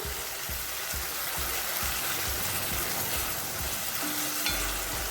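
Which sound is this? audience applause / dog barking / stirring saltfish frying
stirring saltfish frying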